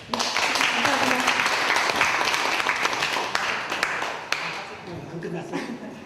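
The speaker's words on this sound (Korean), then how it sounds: "오늘 나와주신 백만 선생님께도 박수 부탁드리고 좋은 말씀에도 박수 부탁드립니다." Audience applause at a Korean radio-style book talk event honoring a guest author, a dense sustained wash of clapping over several seconds that thins toward the end, with some voices mixed in.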